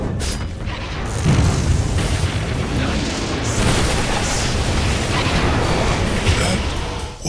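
A tower is destroyed during a Dota 2 match, with a dense, continuous wash of booming, crashing combat noise that stays loud and unbroken throughout.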